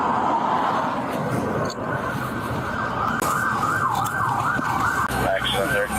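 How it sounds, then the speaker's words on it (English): A police car siren wails, sweeping up and down loudly over engine and road noise, close by and continuous. "Shut my siren off."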